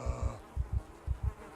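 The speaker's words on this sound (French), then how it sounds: "on entend déjà les mouches qui sont sur les cadavres là" Flies buzz around corpses in the zombie survival game Project Zomboid: three pairs of soft, low buzzing pulses in a steady rhythm, faint and close with no talk.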